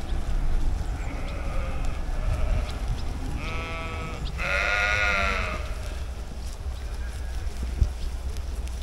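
Two or three Heidschnucke sheep bleat in short, wavering cries over a constant rumble of wind or background noise outdoors.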